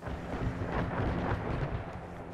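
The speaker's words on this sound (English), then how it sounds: "That U.S. helicopter just bombed something an orphanage." A helicopter bombing run in ArmA 3 rolls out as a loud, sustained explosive rumble, deep and booming throughout with no break, no voices over it.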